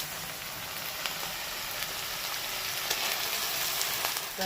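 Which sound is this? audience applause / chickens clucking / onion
onion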